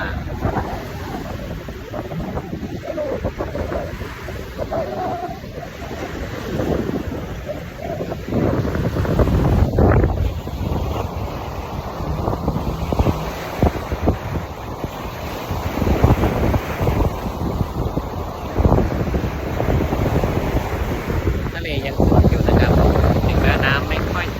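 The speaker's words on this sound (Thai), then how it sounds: "มีคลื่นนะครับ เป็นละลอกนะครับ" Sea waves roll and break continuously at Pattaya beach in Thailand, a steady surf wash with heavy wind buffeting the microphone throughout.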